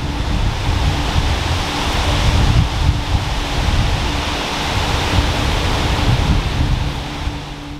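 Wind buffets the microphone outdoors at Acton Burnell Castle, a loud, constant roar with no pauses.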